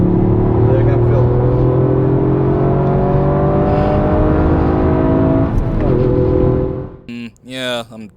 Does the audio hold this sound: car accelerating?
yes